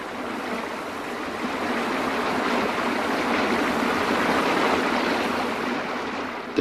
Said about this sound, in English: The water pours smoothly over the fall.